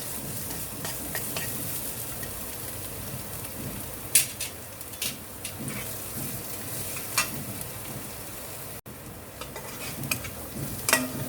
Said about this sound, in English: fry it, saute it